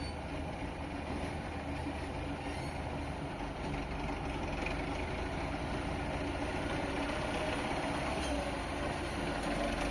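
A low, steady tractor engine rumble runs continuously throughout, like a heavy motor idling nearby with a constant broadband drone and no talking.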